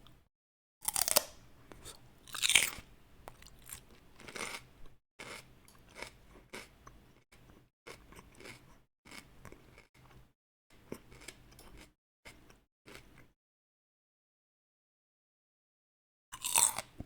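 Close, crisp crunches come from bites of raw celery, with no peanut butter. The crunches arrive in irregular bursts of chewing for about thirteen seconds, then silence, then one more loud crunch at the end.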